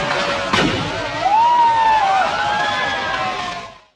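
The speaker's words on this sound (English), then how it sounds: "He also gets hit by a firework." A firework strikes a character in a 1960s horror film: a sharp bang followed by a whistling, whooshing tone that rises and fades over a few seconds.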